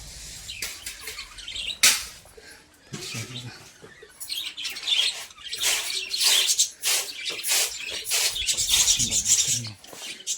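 Birds call and chirp intermittently outdoors in a forest in Sanjay Gandhi National Park, mixed with scraping, rustling noises nearby; no talking.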